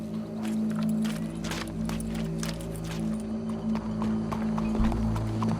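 Horse hooves clop in a steady walking rhythm over a constant low hum in the video game Red Dead Redemption 2, close and clear, with no talking.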